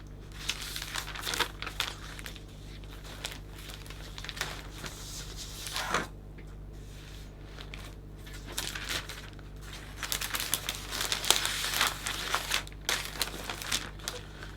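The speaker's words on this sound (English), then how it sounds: "I'm just going to fold so I can find that central point to the cellophane" Metallic green tinted cellophane folded and crinkled around flower stems for a hand-tied Christmas bouquet, making intermittent close bursts of crackling crinkles separated by brief quieter pauses.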